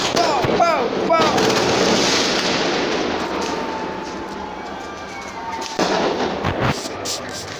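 Fireworks explode in the Minecraft game, a volley of sharp cracks and bangs with whistling trails early on, then a quieter stretch before a second burst of pops, with people talking over it.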